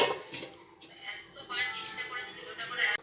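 A metal lid clanks onto a cooking pot of simmering chutney in a home kitchen, a few short close rattles and knocks of metal on metal with a faint voice in the background.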